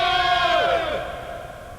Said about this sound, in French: on cria, on applaudit